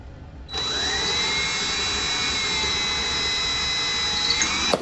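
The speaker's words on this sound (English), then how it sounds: "we're gonna drill a pilot hole." A power drill whines steadily while boring a pilot hole for brushed nickel drapery rod hardware. It runs as one continuous, fairly loud and close burst of about four seconds, then cuts off.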